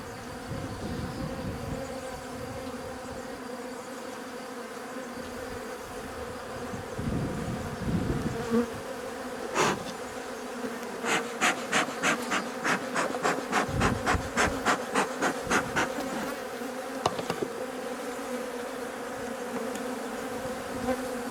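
Honey bees buzzing at an open beehive during an inspection, a dense continuous close drone, with sharp ticking and clicking knocks from handling the frames partway through.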